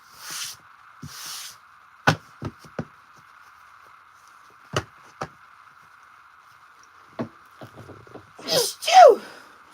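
A single sharp sneeze bursts out near the end, loud and close, after scattered clicks and soft breaths over a steady background hum.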